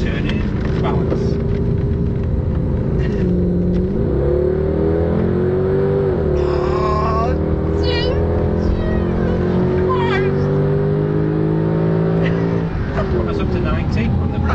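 A Mercedes-AMG car accelerates hard around a track, its engine note rising and falling through gear changes close by, steady and loud beneath an instructor talking over it throughout.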